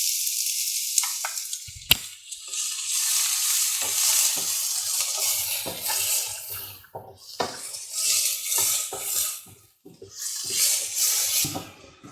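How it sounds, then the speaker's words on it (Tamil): Onions hiss and sizzle in oil in a pan as they fry, with scraping stirs and clinks breaking the steady crackle. "ஆனியன் கொஞ்சம் ஃப்ரை ஆகட்டும்."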